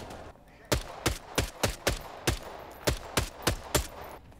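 Sharp gunshots crack out in the Blood Hunt video game, about ten separate shots fired at a quick, slightly uneven rhythm, loud and close over a quiet background.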